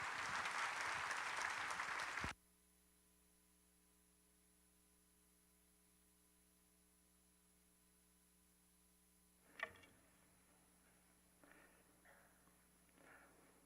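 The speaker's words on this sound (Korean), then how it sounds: "더 큰 박수로 격려해 주시면 좋겠습니다." A church congregation at a Sunday evening service breaks into loud, dense applause for about two seconds, which then stops abruptly, leaving a low electrical hum and a few faint knocks and rustles.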